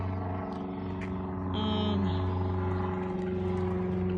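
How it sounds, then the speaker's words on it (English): A small propeller plane drones steadily overhead, its engine hum constant and fairly loud, with a faint rise partway through and no talking. "There's a little tiny plane up there."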